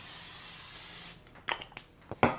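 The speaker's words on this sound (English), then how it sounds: "I'm going to spray my loaf pan." Cooking spray hisses steadily onto a loaf pan for about a second, followed by a few quiet clicks and taps of handling close by.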